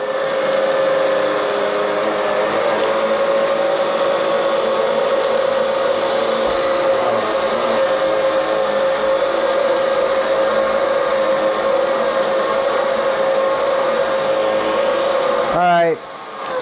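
A Bissell Powerglide Pet vacuum cleaner runs with a loud, steady motor whine and airflow roar. Near the end the pitch sweeps sharply as the motor is switched off or its load changes.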